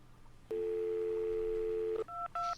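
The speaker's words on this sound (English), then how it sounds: "I'm dialing the wrong phone" Phone keypad dialing, a long steady dial tone followed by two short, distinct DTMF keypress tones, clear and close with faint background hum.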